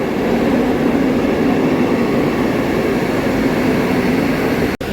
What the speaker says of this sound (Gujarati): ચાલો ફાઇનલી વંદે ભારત આવી ગઈ છે